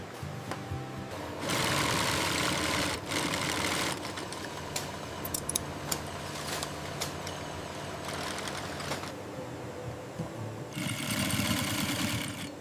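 A sewing machine stitching in a bull horn product factory, running in steady whirring bursts with short pauses between runs, close and fairly loud, with clicks and rattles of the mechanism and a low motor hum, no talking.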